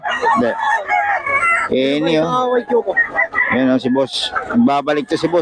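Roosters crow and chickens cluck at a live poultry market in Bocaue, with loud, repeated near crows overlapping with conversation.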